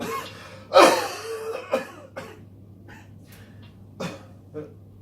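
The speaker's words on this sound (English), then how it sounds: "But I'm also a bit worried about this cough." A person gives a strong cough followed by several smaller coughs and throat sounds, close by over a low steady hum.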